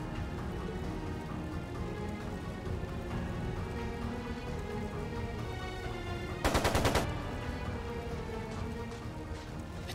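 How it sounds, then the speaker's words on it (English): A short, rapid burst of machine-gun fire in the Trails of Cold Steel II video game cuts sharply through continuous background music, lasting under a second before the music carries on alone. "It sounded like a machine gun."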